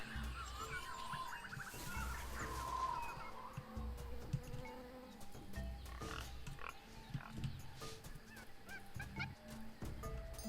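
Boar grunting in the jungle of the Tales of Monkey Island video game, low repeated grunts under a busy layer of honking bird calls and buzzing insect noise, moderately faint.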